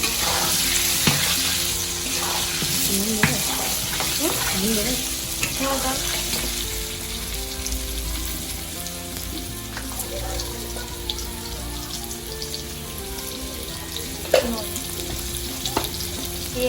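Whole spices and turmeric frying in a pan for a Bengali curry, a continuous close sizzle with occasional scrapes and clinks of a spatula, no voices.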